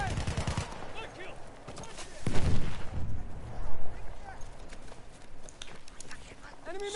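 In a video game match, gunfire crackles alongside a grenade explosion, heard as a few sharp bursts and thumps. Players call out to each other over the fighting.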